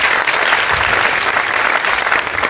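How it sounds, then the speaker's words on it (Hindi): An audience at a motivational talk by an IPS officer breaks into loud, sustained applause, a thick wash of clapping hands from a large hall. "तालियां बजाइए एक बार, बढ़िया।"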